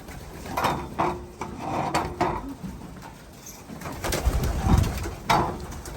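Pigeons coo in soft, repeated throaty calls, with light fluttering and scuffing nearby and some background hiss.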